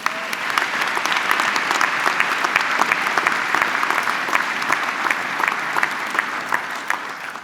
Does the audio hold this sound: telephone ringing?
no